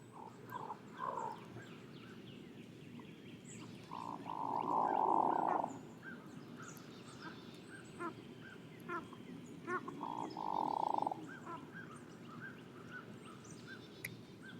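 Hooded merganser giving its rattly, growling display call, a low rough rattle in two louder bursts amid faint background calls, with quieter croaking sounds scattered between.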